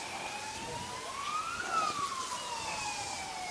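An ambulance siren wails past at a bowling club, its pitch rising as it approaches and falling away after, moderately distant and heard alone over faint background noise.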